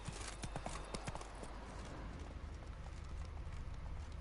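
Roach's hooves clip-clop in quick rhythm in The Witcher 3, near and fairly loud at first, then fading into a steady wash of outdoor game ambience.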